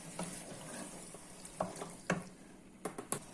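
Meat and potatoes are stirred together with ketchup and Worcestershire sauce in a pan, a faint soft sizzle with a few quick scraping and tapping knocks of the spoon, close by.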